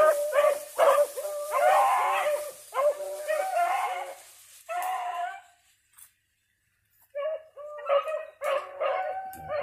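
A puppy at a kennel barks and yips in quick repeated bursts, close and loud, with whimpering between barks and a brief quiet pause before the barking resumes.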